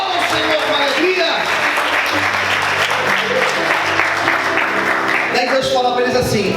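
Worshippers in a church applaud with joy, thick continuous clapping filling the room from start to finish, layered over held instrumental tones and a voice, with a brief swell near the end.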